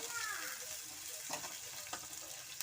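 Chopped onion with green chillies frying in a pan for a gravy gives a dense, even hiss up close, with a few faint clicks from the pan toward the end.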